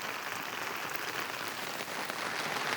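Steady rain falls on an open field, a continuous dense patter with no pauses and no voices.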